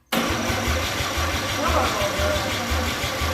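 A flooding 261 straight-six engine cranks over with a rhythmic, chugging starter beat that runs steadily and close by without catching.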